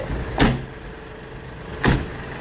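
Two short thuds or clunks from the cab door of a 2010 Ford pickup with a 2.5 engine, about a second and a half apart, heard close with a faint background hum.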